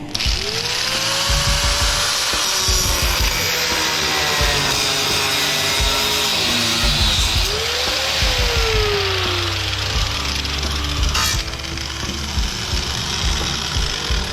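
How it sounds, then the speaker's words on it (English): Handheld angle grinder cutting into aluminum scrap, a loud continuous whine with shifting pitch and harsh broadband grinding noise running steadily throughout. "So we can probably just take our grinder"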